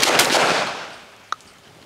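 A Beretta A300 Outlander 12-gauge semi-auto shotgun fires one loud blast outdoors from an overhead position, its roar decaying over about a second, followed by a single sharp click.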